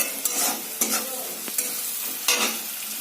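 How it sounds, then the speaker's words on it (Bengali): Spiced flattened rice stir-fried in refined oil in a pan, a close, continuous sizzle punctuated by several sharp scraping stir strokes. "আমরা রিফাইন তেলে ভাজছি"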